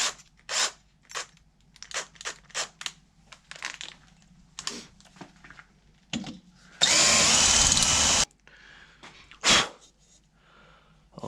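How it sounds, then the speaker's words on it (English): A 5mm step drill bores through parts of a car's front bumper, with one loud sustained burst of drilling after a series of short clicks and taps. "that was a 5mm with step drill."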